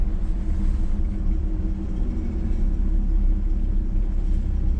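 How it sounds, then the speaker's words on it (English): A Chevrolet squarebody truck with an overheating problem drives through traffic, its engine giving a steady, loud low rumble from inside the cab with no talking. "I've been driving around and it's been doing pretty good going down the road, but getting through some traffic, so let's see what it does"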